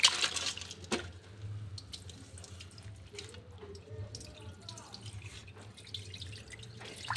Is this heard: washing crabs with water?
yes